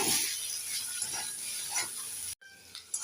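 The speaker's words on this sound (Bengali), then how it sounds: "একটু নেড়ে চেড়ে দিয়ে দেব" Red amaranth greens frying in mustard oil with eggplant bori being turned in the pan: a soft, continuous sizzle with faint stirring scrapes, close up, cutting off abruptly near the end.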